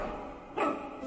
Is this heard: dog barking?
yes